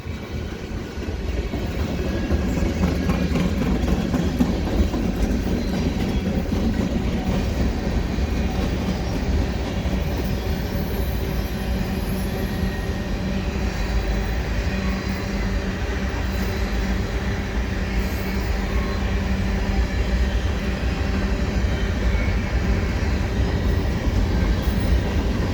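A CN freight train rolls slowly through the Dorval ramps, a steady, close rumble of wheels and cars with soft rhythmic clatter and occasional faint squeal, continuing without letup.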